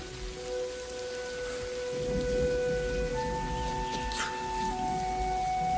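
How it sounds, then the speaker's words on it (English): Steady rain hisses throughout, with a sustained tonal hum and a brief higher whine partway through; no voices. "Rose, I'm standing out in the rain ringing the bell for 15 minutes"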